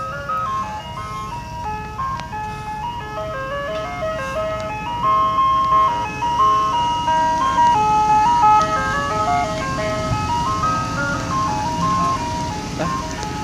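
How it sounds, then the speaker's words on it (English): Old Chevy van ice cream truck playing the picnic song, a tinkling chime melody repeating over a rumbling engine, moderately close and growing slightly louder midway. "here comes the Chevy van too, with the picnic song"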